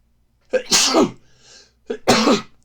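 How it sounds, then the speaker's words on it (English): Two sneezes close up: a sharp, forceful burst, then a short gasp and a second sneeze. "Sorry, I had to sneeze there."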